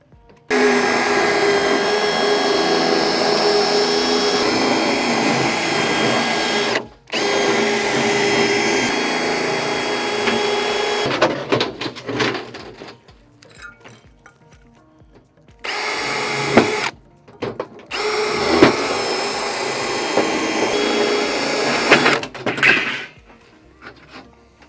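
A power drill with a hole-cutting bit bores holes through sheet-metal HVAC ductwork, making loud, close, whining grinding bursts that stop abruptly, then start again in shorter choppy runs with clanks of metal between.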